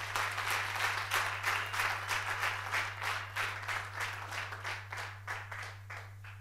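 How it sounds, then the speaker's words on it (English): A church congregation claps its hands in a brisk, steady rhythm of sharp beats, faint and somewhat distant, over a constant low electrical hum. "Somebody clap your hands for Jesus."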